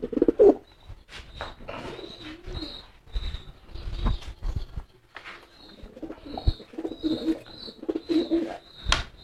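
Racing pigeons coo close by in soft, repeated throaty calls, with occasional chirps and light rustling or wing flutter among them.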